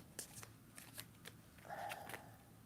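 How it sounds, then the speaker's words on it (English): A deck of tarot cards being shuffled close by, with repeated crisp riffling bursts and soft paper flutters at an uneven pace, with no speech. "These cards talk to me. Like I hear things while I'm shuffling these."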